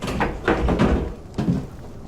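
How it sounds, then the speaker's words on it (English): A door in the We Happy Few video game opens with a few knocking thuds and a wooden creak, followed by a quieter clunk a moment later, close and fairly loud. "I can't get to the door as fast as I used to."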